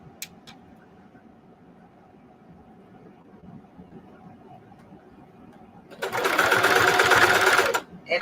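A sewing machine embroidering jeans runs in a loud steady burst of about two seconds after a stretch of quiet room noise, with no voices over the stitching.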